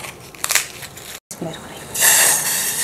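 Biscuits are broken by hand into small pieces, giving dry crackling and crunching snaps that build into a sustained crumbly rustle near the end, with a brief gap partway through.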